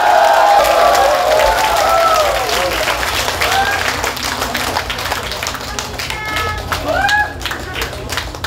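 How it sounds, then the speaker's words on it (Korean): An outdoor crowd at a pumba street performance during the Baekje Cultural Festival claps and cheers loudly, with sharp individual claps and whoops over dense applause that eases off in the middle and then swells again. "자, 다시 한 번 더 박수와 함성!"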